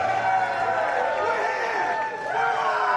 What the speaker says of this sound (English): Just listen to the crowd for that young man.